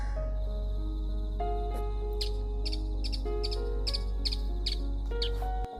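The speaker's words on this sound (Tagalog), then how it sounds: "Sinabayan pa ng mga huni ng ibon." Short bird chirps come in repeated bursts over a steady low hum, heard from a house balcony, fairly faint against the constant background.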